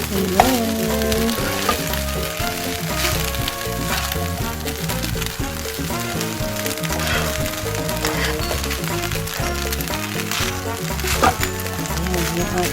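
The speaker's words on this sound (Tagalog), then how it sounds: "Haluin lang mabuti para yung nasa ilalim na gulay at karne ay halo sa kanin mabuti." Fried rice with vegetables and meat sizzles steadily in a pan while being stirred, a close continuous frying hiss with background music and no talk.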